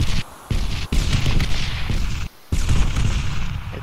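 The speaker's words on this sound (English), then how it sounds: "Sounds more like a GMG." Grenade machine gun rounds burst in a video game battle, a few heavy explosions crashing close by with short gaps between them, broadband and loud with no talking.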